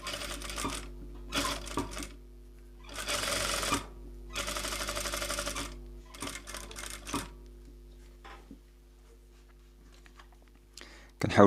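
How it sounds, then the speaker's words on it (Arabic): A sewing machine stitches along the edge of interfacing on a collar for a women's modest dress, running in several short, fairly loud bursts separated by pauses, with quieter handling noise between. "ملي كنبغيو نخيطو كنمشيو مع الحاشيه ديال الفيزلين هنا"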